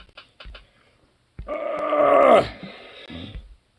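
A dog on someone's lap lets out a drawn-out moaning groan with small grunts around it, close and fairly loud, with quiet gaps between the sounds.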